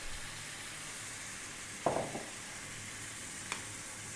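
Coconut milk for a rohu fish curry sizzles softly in a hot pan, a steady low hiss punctuated by a couple of brief stirring clinks.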